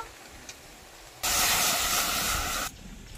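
A loud, steady hiss of water heating in a wok bursts in suddenly, holds for about a second and a half, then drops back to a quiet background.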